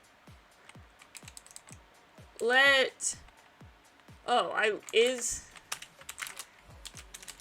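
Typing on a computer keyboard: crisp, quick clicks tapping at an irregular pace, close and distinct, with a voice speaking over the keystrokes in two short bursts.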